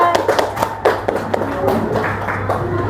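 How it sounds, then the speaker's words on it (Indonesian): Elementary schoolchildren clap for group 3 in a classroom, a scatter of loose, uneven hand claps and taps close by, with a low murmur of voices behind. "Tepuk tangan untuk kelompok 3"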